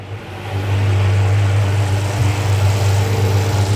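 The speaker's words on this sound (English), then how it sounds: "this is the first time that we know of that this car has ran in a hot minute" An abandoned Ferrari 599's engine runs loud and close, holding a steady, deep mechanical hum after rising at the start, with a slight swell in revs partway through.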